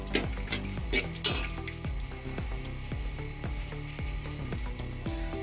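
Garam masala roasts in hot oil with a loud, close, continuous sizzle and crackle, broken by repeated rhythmic scraping strokes from stirring.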